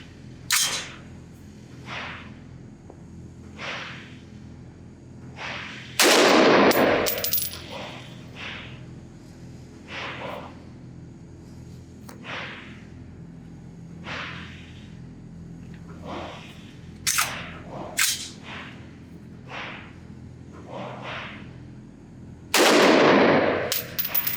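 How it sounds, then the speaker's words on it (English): A Q Sugar Weasel 5.56 rifle, badly undergassed, fired at an outdoor range: two loud, sharp reports far apart, with lighter metallic clinks and clatter scattered between them. "let me show you the footage of the first time I tried to shoot this"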